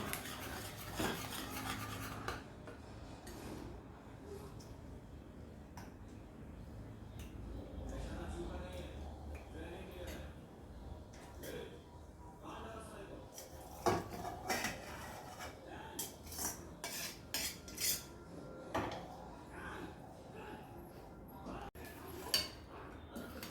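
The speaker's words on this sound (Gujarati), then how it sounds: "તો આપણે પાસ્તા મિક્સ થઈ ગયા છે પ્રોપર રીતે." White sauce pasta stirred in a pan with a metal spoon, scraping and clinking against the pan in an irregular rhythm, with a voice talking over the cooking sounds.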